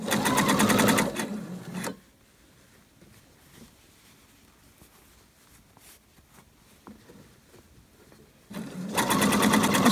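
A sewing machine stitching a line between gathering threads on fabric for harem pants, running in a loud burst, pausing for several quiet seconds of handling, then running again.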